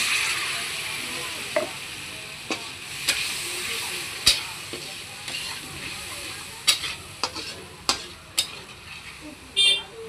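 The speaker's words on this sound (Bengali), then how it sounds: "এর মধ্যে একটু জল দিয়ে দিব।" Water goes into simmering small lime fish gravy in a pan, giving a steady soft sizzle and bubbling punctuated by sharp, scattered clicks of a utensil against the pan.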